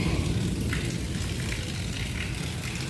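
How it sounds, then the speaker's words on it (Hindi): Light rain falls steadily, a soft, even wash of patter and hiss with no voices over it throughout. "थोड़ा सा बारिश हो रही है"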